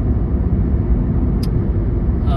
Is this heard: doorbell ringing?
no